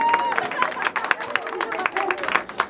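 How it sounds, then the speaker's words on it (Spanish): Loud applause and cheering from a birthday party crowd for the birthday girl at a mariachi performance, dense close clapping mixed with crowd chatter and voices throughout. "el aplauso fuerte para ella, que se escuche, para animarla en su noche"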